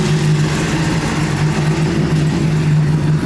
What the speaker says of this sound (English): We need to let the bike run for a few minutes